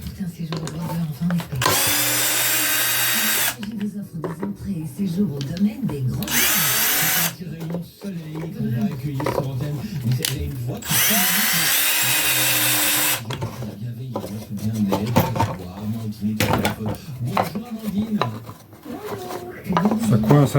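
Power drill driving screws into a wooden board for an educational wall panel, two long loud whirring bursts with shorter spurts and clatter between, under a voice talking.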